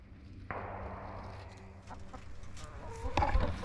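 Hens clucking in a chicken run during fall cleanup, soft close murmuring calls with a few louder squawks and rustling toward the end, over a low background hum.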